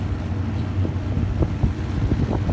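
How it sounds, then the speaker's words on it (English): A fan runs inside a shed, pushing a strong stream of air: a steady, close, breathy rumble with a low hum underneath and no pauses. "Yeah, so this fan's not on idle yet."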